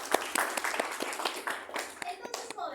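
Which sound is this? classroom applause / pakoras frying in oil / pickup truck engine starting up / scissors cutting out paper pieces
classroom applause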